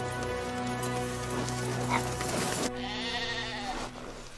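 Sheep bleat in the snow, a sustained wavering bleat that drags on for a few seconds and then a second, breathier call, close and fairly loud over a steady background.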